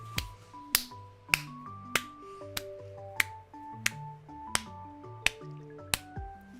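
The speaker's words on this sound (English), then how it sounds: "I'm getting slow clapped, so I'm making the noise." Slow, deliberate clapping over a remote chat, about ten sharp, evenly spaced claps a little over half a second apart, close and crisp, with faint tones sounding between them.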